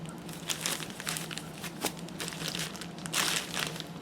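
Soft crinkling of a plastic bag holding a rifle scope, irregular rustles and crackles close by, fairly quiet with no talking.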